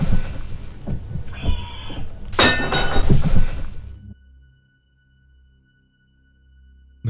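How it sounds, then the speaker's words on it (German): A piece of dishware shatters on a floor with a single sharp, bright crash and scattering clinks, preceded by faint rolling and knocking sounds and followed by near silence. "ein Stück Geschirr fing an auf dem Boden herumzurollen,"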